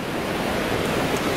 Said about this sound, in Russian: Мы у моря.